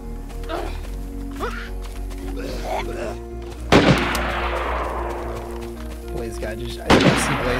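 Two loud, sharp gunshots from another player in the survival video game DayZ, spaced a few seconds apart, each with a long decaying echo, over continuous game ambience and occasional voices.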